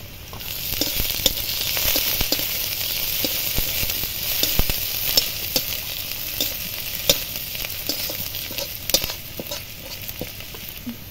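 Chopped garlic sizzles in hot oil, a close, continuous hiss broken by frequent sharp pops and crackles.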